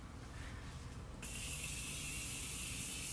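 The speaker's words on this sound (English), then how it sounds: "Setting spray, this is my favorite part." A steady, close hiss of spray starts abruptly and continues without a break.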